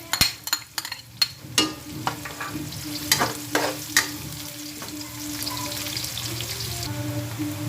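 Red onion hits hot oil in a pan and is stirred, with a row of sharp spoon-on-pan clacks followed by a steady, close sizzle and no talking.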